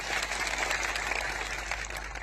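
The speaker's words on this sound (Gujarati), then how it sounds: "તાળીઓ પાડી લો." A crowd at an outdoor political rally breaks into applause, a dense, steady patter of many hands clapping at once that holds at a moderate level for a couple of seconds.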